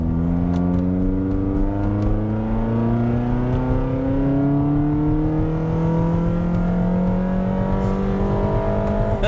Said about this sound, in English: let's see if you can hear the WRX-like exhaust note as we kind of cruise around here